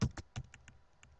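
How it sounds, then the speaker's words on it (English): Quick keystrokes on a computer keyboard, a few sharp clicks in a short burst followed by softer, faster taps, close and quiet with no talking. "Verbal, I'm typing this in, and I tab over to go to the right."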